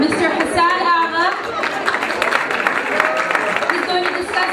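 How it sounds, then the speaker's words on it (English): A fundraising-dinner audience gives a round of applause for Mr. Hassan Agha, scattered clapping and crowd murmur rising under someone speaking close to the microphone. "If I could have a big round of applause for Mr. Hassan Agha."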